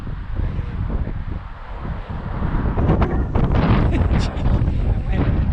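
Strong wind buffets a microphone on a windy day, a heavy rumbling roar with gusts that build louder toward the end, and faint voices may sit underneath.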